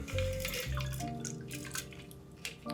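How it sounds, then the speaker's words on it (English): A shaken vodka martini is strained from a shaker into a glass, a close, steady trickle and splash of liquid that tapers off into a few drips. "and strain the drink in."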